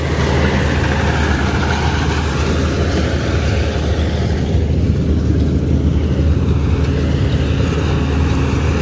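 A straw reaper machine's engine runs at a steady, loud, low drone with a constant mechanical rumble, heard close and alone without any talk.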